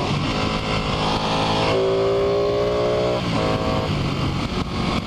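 A Ducati 899 Panigale sport motorcycle accelerates hard, its engine rising in pitch through smooth quick-shifter gear changes, loud and close with steady wind roar throughout.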